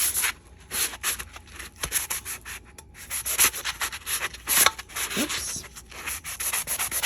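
Hand sanding a glitter-coated tumbler surface gives close, rhythmic scratchy rubbing strokes in quick bursts. A single short word is spoken partway through.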